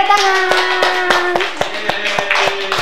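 Children in a classroom clap their hands together in several sharp, loud rounds of overlapping claps, with voices and a sustained hum continuing underneath.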